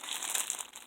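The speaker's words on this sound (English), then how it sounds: "This is a plastic bag." A plastic bag is handled up close, giving a brief burst of crisp crinkling and rustling that lasts under a second at moderate volume.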